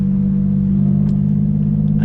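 A 2009 Mitsubishi Eclipse GT engine running close by, a loud steady low hum that swells slightly partway through, with no talking over it.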